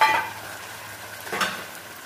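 Marinated meat in a hot kadai gives a moderate, close sizzle with a louder burst at the start and another swell partway through, with no talking.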